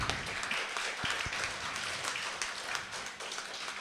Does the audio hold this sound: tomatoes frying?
no